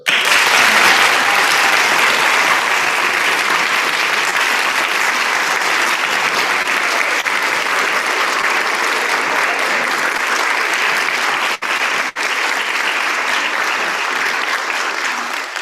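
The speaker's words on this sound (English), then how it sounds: "give a huge round of applause to someone who's absolutely critical to our success here at Titusville High School" Audience at a high school instrumental music awards ceremony gives a long, sustained round of applause, a dense, even roar of clapping that holds steady throughout, with no voices heard over it.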